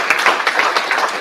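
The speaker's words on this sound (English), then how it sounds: "let's give a round of applause to our guests here." An audience claps for invited guests at a congressional hearing on UAPs, giving close, steady applause with a brisk irregular rhythm of overlapping hand claps.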